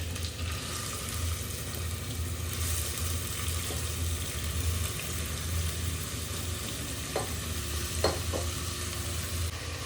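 Onion frying in oil on a gas stove for momos, a dense continuous sizzle with a low steady hum and occasional soft scrapes as it's stirred, loud and close with no talking.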